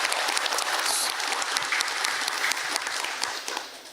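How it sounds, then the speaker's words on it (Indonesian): An audience claps steadily, a dense wash of applause that holds throughout and fades slightly at the end. "boleh kita kasih tepuk tangan dulu buat Ibu Azria"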